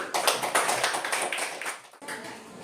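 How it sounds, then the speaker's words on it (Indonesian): Students in a classroom clap together for their learning groups, a quick, dense patter of close handclaps that thins briefly near the end, then picks up again. "Tepuk tangan untuk kelompok kinestetik, auditori, dan visual dulu"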